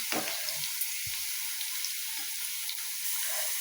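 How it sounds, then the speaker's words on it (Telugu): Sliced onions fry in a pan with a steady, close hiss of sizzling oil, broken by a couple of faint clinks. "చూడండి ఉల్లిపాయలు కొంచెం వేగిపోయినాయి, ఇంకాస్త వేగనిద్దాం."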